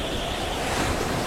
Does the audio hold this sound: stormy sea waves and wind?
yes